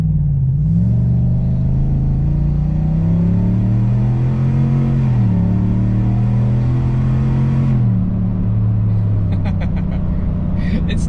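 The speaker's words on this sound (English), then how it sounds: "But it definitely has an actual exhaust note now." Chevrolet Silverado with a modified exhaust revved at full throttle, a loud deep drone that climbs and falls in pitch several times, then settles while a voice briefly speaks near the end.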